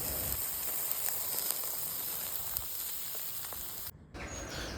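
Shashlik skewers sizzling on an outdoor grill: a steady, close crackling hiss with scattered faint pops, running alone without speech before briefly cutting out near the end.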